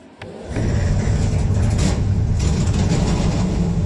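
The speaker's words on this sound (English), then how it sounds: "Drivers, start your engine!" NASCAR Pinty's Series stock car engines fire up on a dirt track at Ohsweken, a sudden loud roar that swells into a steady, dense rumble of many engines idling and revving together.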